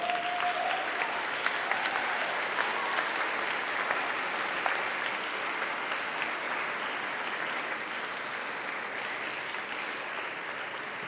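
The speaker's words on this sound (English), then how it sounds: "Why don't you stand up, turn around, and applaud your faculty, your family, your friends who have supported you for this whole time." Students at a December 2014 graduation recognition ceremony applaud their faculty, family and friends: a large crowd clapping steadily and loudly throughout, a dense sustained roar of hands that fades only slightly toward the end.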